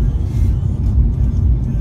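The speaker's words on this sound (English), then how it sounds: "You can see what happens when the car has to change lane quite fast." A Mercedes-AMG car runs through a quick lane-change avoidance exercise, its engine a steady low rumble with road and wind noise, sounding close and continuous throughout.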